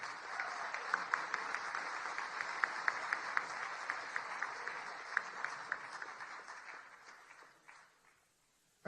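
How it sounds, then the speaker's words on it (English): Sustained applause from a large dinner audience at the White House Correspondents' Dinner, steady dense clapping for about seven seconds before fading out. "Let's give him another huge round of applause."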